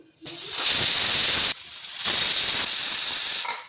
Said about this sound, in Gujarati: કુકરનું ઢાંકણ બંધ કરી અને આપણે અહીંયા ફૂલ ગેસ ઉપર 2 વિસલ કરી લઈશું